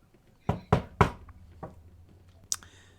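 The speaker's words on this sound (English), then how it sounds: "I'll knock." Knuckles knock on a door in a quick series of four or five hollow, close raps with uneven spacing, followed by a sharp single tap, over a low room hum.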